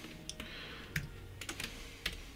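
Several separate key presses on a computer keyboard during video editing, light crisp clicks spaced irregularly over a steady low background hum.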